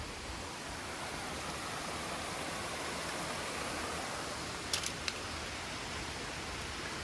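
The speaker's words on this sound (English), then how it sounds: "I don't know how well you can hear the water in the background" Nang Khuan waterfall flows in a faint, even hiss of distant rushing water that holds steady throughout, with a couple of tiny clicks near the end.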